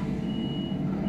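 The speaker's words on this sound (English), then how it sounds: "those noisy doors again" Train door warning beeps in the Train Sim World 2 Caltrain simulation, a steady close electronic tone sounding continuously over a low rumble of the train.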